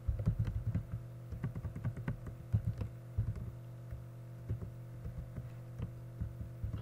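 Rapid irregular clatter of keys on a computer keyboard as JavaScript code is typed, in quick bursts with short pauses over a steady low electrical hum, close and clear.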